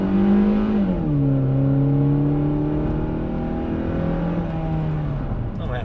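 A 2007 Ford Fusion with a 2.3 four-cylinder engine accelerates, a steady droning engine tone rising and shifting pitch as it pulls, heard from inside the car without talk.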